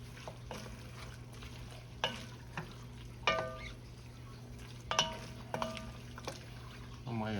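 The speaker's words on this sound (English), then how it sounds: "gonna add our celery and onions to this. Let this cook a little bit." Celery and onions cooking in a pan for chili, with a quiet sizzle under a steady low hum, broken by intermittent spoon clinks and scrapes against the pan.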